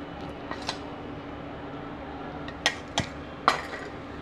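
A spoon stirs egg kalakki batter in a pan, making a few scattered metallic clinks and scrapes, two early and three sharper ones near the end, over a faint steady background hum.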